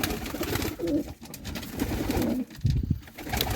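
Pigeons coo in low, soft repeated bursts, with a few louder throaty coos near the end, over steady outdoor background noise.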